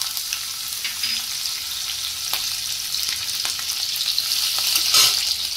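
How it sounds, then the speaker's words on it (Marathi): Cumin, mustard seeds and green chillies sizzle in hot oil with a bright, continuous hiss peppered with pops and crackles, growing louder toward the end, with no talking. "आपण इथे तेल गरम केलेलं आहे। आता जिरे मोहरी घालूया, हिरवी मिरची"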